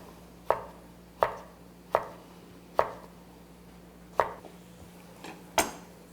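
Knife chopping potatoes on a cutting board in a restaurant kitchen, cut to even width and thickness: six or seven crisp, separate knife knocks at a slow, slightly uneven pace, close and clear, with no talk.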